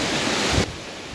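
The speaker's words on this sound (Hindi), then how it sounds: "यह झरना काफ़ी ऊंचाई से गिरता है।" Water from a high mountain waterfall near a remote temple crashes down in a steady, broadband roar, loud and continuous, dropping slightly in level partway through with no voices.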